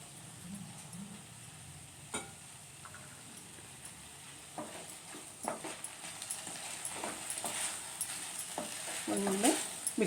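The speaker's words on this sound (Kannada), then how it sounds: "ಈಗ ಇದನ್ನು 1-2 ನಿಮಿಷ ಸ್ವಲ್ಪ ಫ್ರೈ ಮಾಡೋಣ." Vegetables for pasta frying and being stirred in a pan, a faint steady sizzle with scattered scraping clicks from stirring, no talk.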